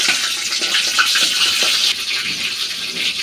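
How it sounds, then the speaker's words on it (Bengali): A rohu fish head, washed clean, dropped into hot oil in a home kitchen, giving a steady, loud, hissing sizzle that holds without pause throughout. "এই যে এবার দিয়ে দেব আমি তেলের মধ্যে মাছের মাথাটা।"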